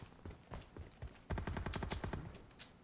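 Gunfire in the mobile battle-royale game PUBG Mobile: scattered single shots, then a dense rapid automatic burst, closely spaced and punchy, played fairly quietly with no talk over it.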